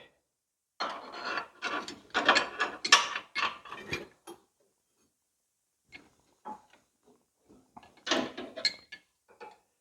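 A ratchet wrench with a 16 mm socket works a bolt on the transmission of a John Deere 855 tractor. Bursts of clicking and ratcheting come close up in a dense run, go quiet, then return as short sporadic clicks.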